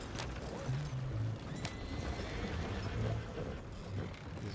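Horse neighs and a rapid clip-clop of hooves from Red Dead Redemption 2, with a whinny near the start and steady hoofbeats running throughout, up close and fairly loud over a busy game background.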